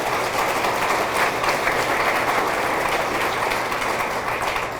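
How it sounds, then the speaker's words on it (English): Steady applause from a crowd at a high school athletic hall of fame ceremony, sustained and fairly loud throughout with dense clapping and no talking. "That deserves a round of applause."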